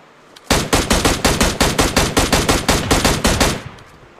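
Rapid automatic gunfire from an M762 rifle in the PUBG Mobile video game, a steady burst of roughly sixteen loud, evenly spaced shots lasting about three seconds before cutting off.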